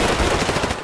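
A loud, close burst of rapid gunfire in a shooter video game, a quick string of shots packed into under a second.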